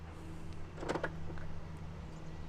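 Door locks of a 2015 Mini Countryman engage with a quick pair of soft mechanical clicks and a brief whir, faint and close in an otherwise quiet setting.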